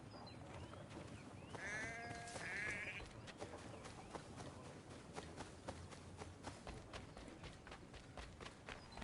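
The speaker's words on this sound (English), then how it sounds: "I can pet sheep." Two sheep bleats in the video game Assassin's Creed 3 Remastered, close and clear, ring out over a steady outdoor background with soft footsteps and rustling.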